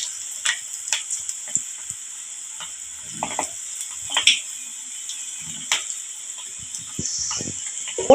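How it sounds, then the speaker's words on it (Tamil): Meatballs frying in oil in a pan give a steady high hiss, with scattered soft clicks and pops and occasional stirring scrapes breaking in throughout. "உங்கள் பாத்திரத்தில் எவ்வளோ பிடிக்குமோ அத்தனை உருண்டை சேர்த்து பொரிச்சு எடுத்துக்கோங்க"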